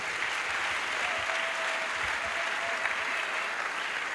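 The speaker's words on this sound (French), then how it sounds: "Acclamons pour le Seigneur." A congregation at an evangelistic crusade applauds steadily, a dense, even wash of clapping from many hands that holds at a constant level throughout.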